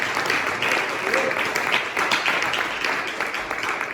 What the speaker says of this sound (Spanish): ¿Cuánto le dan un aplauso al Espíritu Santo?